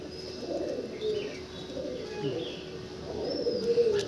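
Soft, low cooing from pigeons rises and falls in short repeated phrases against a quiet, hissing background with no voices.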